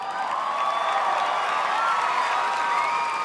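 A large audition-show crowd cheers and applauds continuously, a dense and loud wash of clapping and shouting with no pauses.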